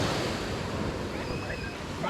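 Ocean surf washes steadily against a lava rock shore in the Canary Islands, a close, continuous hiss with wind buffeting the microphone and faint tonal sounds in the background.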